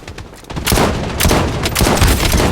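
Loud, close gunfire from an SVD sniper rifle in the shooter game Blood Strike, heavy booming shots fired in quick succession with no talk over them.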